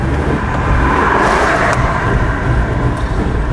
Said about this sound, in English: Setting out idle and it's okay, but when I go to accelerate, it just does not want to accelerate.